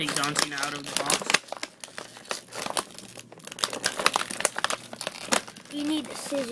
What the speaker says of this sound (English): Okay, so we're just gonna take John Cena out of the box.